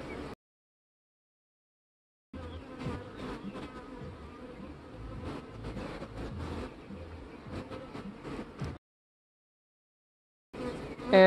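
A dense, low buzz of many honeybees in a hive hums for about six seconds, close and steady, then cuts off into silence before briefly returning.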